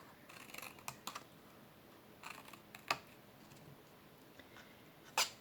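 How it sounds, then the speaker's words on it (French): Scissors snip the corners off small squares of material, a few faint, sharp clicks scattered across a quiet room with no talking. "Mes petits carrés, je coupe les coins."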